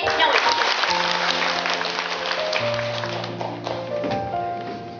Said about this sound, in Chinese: 大家掌声欢迎廖伟同学